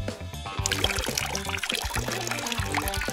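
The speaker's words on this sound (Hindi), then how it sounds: "पहले आप इसमें पानी डालेंगे" Water poured into a container for a children's walking-water science experiment, a steady trickling and splashing stream heard close and alone for a few seconds.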